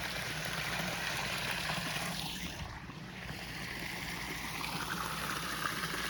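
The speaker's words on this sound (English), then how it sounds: "that's just a spillway waterfall" Water runs continuously over a spillway waterfall into a DIY cinder-block in-ground swimming pool, a steady, close rushing splash with a brief dip partway through and no talking.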